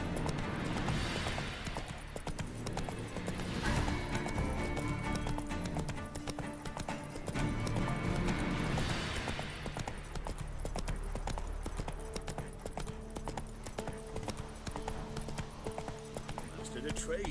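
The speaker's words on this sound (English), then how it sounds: "Run, Roach" A horse gallops in The Witcher 3 Next-Gen, its quick clip-clopping hooves beating continuously and close over swelling game music and ambience, with a voice speaking briefly.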